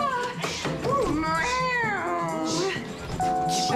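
A cat meows repeatedly and close, drawn-out wavering yowls like a caterwaul, with a person speaking alongside.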